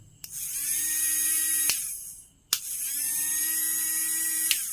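A small DC mini motor switched on and powered by a 9V battery whines steadily at a high pitch, stops briefly when switched off, then spins up again with a click at each switch change.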